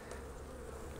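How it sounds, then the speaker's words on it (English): A good-sized colony of honey bees buzzes steadily in its hive in winter, a dense, continuous hum that stays close and even for the whole second with no talking. "good size colony of bees here"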